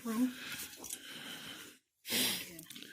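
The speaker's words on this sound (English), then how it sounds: "And he's having a hard time breathing because apparently his flapper's in the way." A newborn calf wheezes and snorts, struggling to breathe with its airway blocked, giving close, raspy breaths broken by a brief silence and then a sharp noisy gasp.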